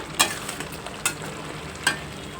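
Andhra-style mutton fry cooking down dry in a pan, a steady close sizzle with three sharp scraping strokes of a spatula spaced about a second apart, no voices.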